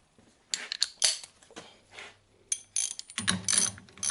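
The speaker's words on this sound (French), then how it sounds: "Je dévisse l'écrou." A ratchet fitted with a 30 socket unscrews a nut on a Traction 11 front axle part, giving several close, sharp bursts of rapid clicking with short pauses between strokes.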